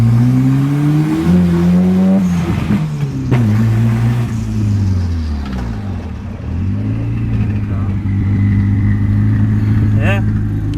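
A turbocharged F23 Honda Accord engine revs hard and loud, its pitch climbing and falling through several sweeps as it comes onto boost, close up, with a whine rising near the end.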